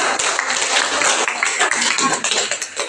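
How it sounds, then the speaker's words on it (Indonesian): Students in a classroom clap together after a group's question-and-answer session, a dense burst of many hands at close range that holds steady for a few seconds. "Kita tepuk tangan dulu atas pertanyaan dan jawaban."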